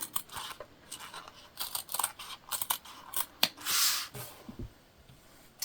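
Fabric scissors snip away excess material on a sewn crossbody bag, giving a quick series of close, crisp cuts with soft rustling in between.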